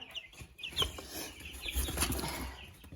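Ten-day-old Redbro and Master Grey chicks flutter and peep softly while being weighed, brief wing flaps and faint cheeps close by.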